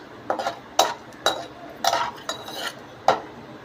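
Cashews roasting in a pan for halwa, stirred with a spoon that gives six or seven sharp metallic scrapes and knocks in an irregular rhythm, close and distinct over a quiet background.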